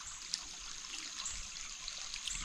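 Small creek in Bones Valley along the Pinhoti Trail in Alabama trickling steadily, a soft, continuous watery hiss with faint splashy detail, close by and alone without talk.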